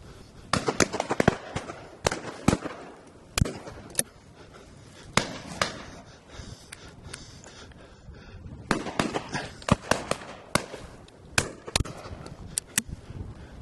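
Shotgun blasts ring out across an estate during a storm, sharp loud reports fired in quick pairs and clusters with short gaps, over a steady rush of wind.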